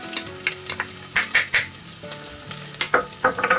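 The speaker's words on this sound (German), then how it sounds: "Dann gebe ich in die heiße Butter die Zwiebel." Chopped onion hitting hot melted butter in a pot, crackling and sizzling in a steady close hiss with bursts of stirring scrapes and clinks.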